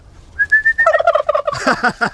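A high whistle sounds first, then a turkey answers with a loud, rapid burst of rattling gobbles close by.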